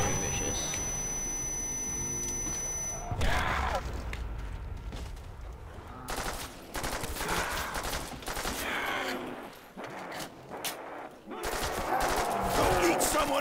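Bursts of gunfire in Call of Duty custom zombies, with crackling shots breaking in after a steady high electronic tone, then scattered volleys and a final heavy burst, under loud game noise with some talk.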